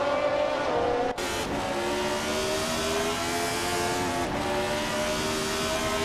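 A Lotus 72C race car engine screams at high revs during a race, a steady, loud, close engine note that cuts briefly near the first second as it shifts and then climbs again.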